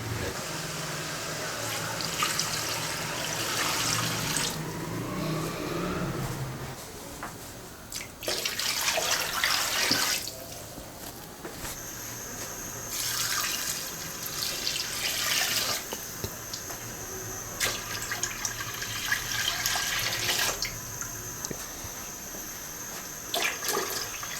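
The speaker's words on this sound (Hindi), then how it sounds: "अब इसमें पानी डालेंगे।" Water poured from a jug into a cooking pot of beef paya (trotters) on a stove, several bursts of splashing and gushing pours separated by short pauses, close and fairly loud.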